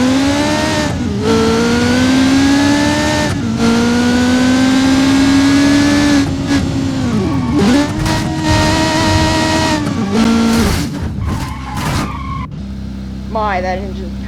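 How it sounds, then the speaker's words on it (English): A powerful CJD Special car engine in BeamNG.Drive revs loudly and continuously, its pitch climbing and dipping through several throttle swells and gear changes, then dropping to a lower idle-like drone near the end. "take a listen to this engine."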